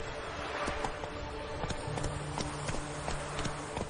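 Galloping hooves of Roach, the horse in The Witcher, a steady rapid clip-clop rhythm running throughout at moderate loudness, with faint game ambience and a low hum beneath.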